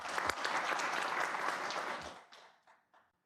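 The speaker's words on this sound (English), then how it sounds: "I'd like to give them a round of applause" An audience at a school district board meeting applauds with fairly faint, even clapping that tapers off into a few scattered claps before ending.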